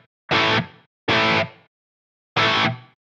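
Three distorted electric guitar strums through a Line 6 Pod Go with a small reverb, each chord ringing briefly with a short tail before fading into silence between hits.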